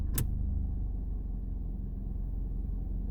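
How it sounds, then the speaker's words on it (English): A 2006 PT Cruiser engine idles in reverse gear, a steady low rumble heard from close by with a brief click near the start and no talk. "I just want to do the quick test again where I leave it in reverse gear and leave it idling"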